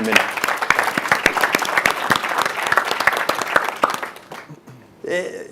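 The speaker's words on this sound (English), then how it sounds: "I just wanted to give a round of applause to Lauren and the whole TechTable team." Audience applause at a TechTable tech event on reservation systems, dense steady clapping from many hands for about four seconds before fading, then a voice speaks briefly at the end.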